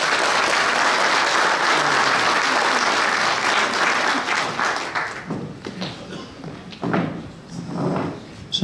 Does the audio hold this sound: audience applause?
yes